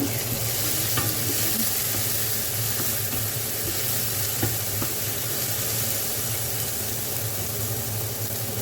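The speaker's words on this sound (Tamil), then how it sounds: "ஒரு 2 நிமிஷம் வதங்கிடுவோம்" Ingredients sautéing in a pan for a Jaffna-style egg omelette curry: a close, steady sizzle with the scrape and shuffle of stirring and a few light taps.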